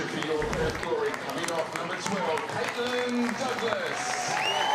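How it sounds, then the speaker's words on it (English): Crowd applause at a women's A-League football match between Perth Glory and Sydney FC, steady clapping and cheering filling the stadium under continuous commentary. "She acknowledges the crowd's applause with a smile."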